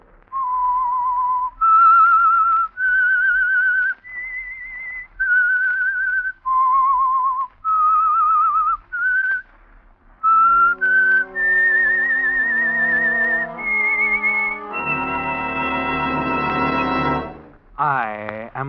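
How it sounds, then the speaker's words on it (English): Whistled theme tune of The Whistler, a 1948 radio drama: a clear, loud solo melody of held notes rising and falling, then joined by swelling orchestral music toward the end. "That whistle is your signal for the Signal Oil program"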